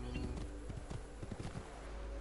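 Quiet horse hoofbeats in the video game Assassin's Creed Ezio Collection, a short run of soft, uneven clopping steps over low ambient background.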